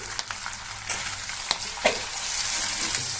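Potatoes added to a pan and frying with a loud, close sizzle, punctuated by a few sharp clatters and stirs as the pieces shift, with no voices.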